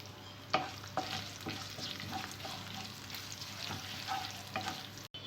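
A tempering of garlic, dried red chillies and curry leaves sizzles in oil as turmeric goes in, with a steady crackle and several sharp stirring scrapes against the pan, close and clear.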